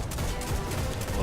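Rapid gunfire from a weapon in the video game Destiny, a dense burst of shots filling the whole moment at steady loudness.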